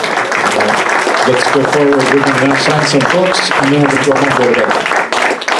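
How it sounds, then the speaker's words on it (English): An audience at a Magnolia Historical Society talk claps in a steady crowd patter while someone speaks over it, the applause lasting several seconds. "I think we all owe Paul a huge round of applause for creating this."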